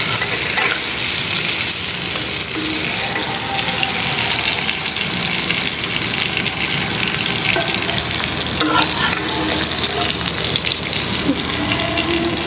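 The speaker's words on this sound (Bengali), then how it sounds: "মাছগুলো ভালোভাবে ভেজে নিতে হবে, বেশি ভাজা যাবে না" Fish fries in oil with a loud, dense, continuous sizzle that stays steady throughout, heard up close with occasional faint knocks from handling.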